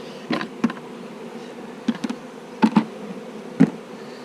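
Honeybees buzz around an open beehive during a frame inspection, a steady drone with several louder bees passing close by in brief swells, no talking.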